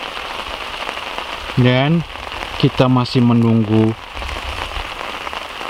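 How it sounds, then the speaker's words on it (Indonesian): Steady rain falling outdoors, a constant broadband hiss of drops throughout, with someone speaking briefly over it in the middle. "hujan belum reda. Mulai lagi hujannya"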